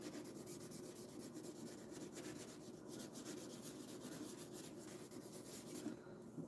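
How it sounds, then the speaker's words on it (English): A small finishing pad rubbing down a large furniture transfer on a painted piece, producing a steady, soft, continuous scratchy rubbing close by, fairly quiet and even throughout. "I'm gonna use my little piece of my finishing pad and rub this down"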